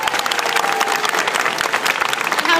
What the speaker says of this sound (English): why don't we reward him with one more big round of applause